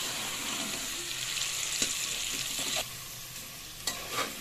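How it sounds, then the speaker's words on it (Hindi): Mutton pieces coated with turmeric and salt sizzle over a high gas flame, giving a steady crackling hiss with a few scraping stirs and soft clinks, fairly close and not very loud, with no talking. "अच्छे से फास्ट गैस पे अच्छे से इसे तड़तड़ा लेती हूँ"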